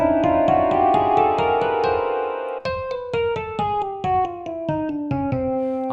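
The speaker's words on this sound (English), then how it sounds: "That's called a chromatic scale." Piano playing a chromatic scale through all twelve notes, first as quick repeated overlapping notes, then as distinct evenly spaced single notes stepping along, clear and close with no talk.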